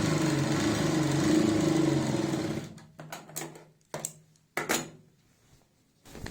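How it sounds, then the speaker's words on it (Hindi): A sewing machine runs steadily while stitching a salwar seam, then breaks into several short stop-start bursts of close, mechanical whirring. "बिल्कुल आराम से तसल्ली के साथ आपने यहाँ पे सिलाई लगानी है"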